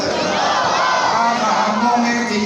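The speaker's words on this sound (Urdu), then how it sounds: "جواب ہے مومن کا یہی نعرہ ہے تاجدار ختم نبوت زندہ باد یہ نعرے لگ رہے ہیں۔" A large gathering at a religious sermon loudly chants slogans in unison, a sustained roar of many voices heard close and without a break.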